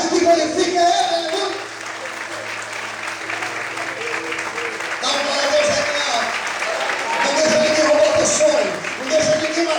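A church congregation claps together during a sermon, steady dense applause filling the space, with voices speaking and calling out over it.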